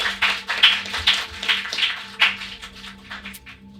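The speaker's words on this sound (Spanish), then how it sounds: "Un aplauso para Jorge" A small live audience in a pub claps for two storytellers, scattered hand claps and taps of modest loudness that rise and fade over a few seconds.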